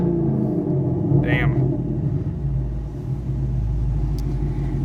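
Rumbling engine of a 2021 Chevrolet Camaro SS fitted with a new exhaust, a deep steady idle heard close up, with someone talking briefly over it.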